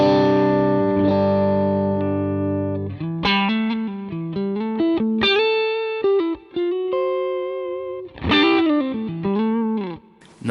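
Electric guitar played through a dual Vox amp preset on a Line 6 Helix, with a sustained chord ringing out and then a run of picked single notes and short phrases, with chorus-like shimmer and reverb tails.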